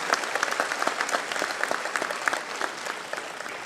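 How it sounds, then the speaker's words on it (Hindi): Applause from the audience at a state-level award distribution ceremony in Bhopal, a dense, steady burst of clapping from many hands, close and lively, lasting a few seconds. "आज जरा जोर से ताली बजाओ,"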